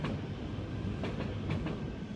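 A train rumbles through Copenhagen's train station with a steady low roar and faint rhythmic clicks of wheels over rail joints, fairly close and continuous.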